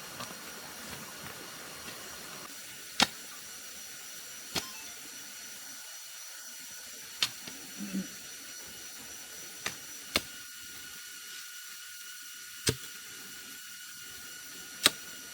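A wooden digging stick is driven into tight forest soil while building a bamboo cabin, giving about eight sharp, isolated knocks spaced irregularly over a quiet, hissy outdoor background with no voices.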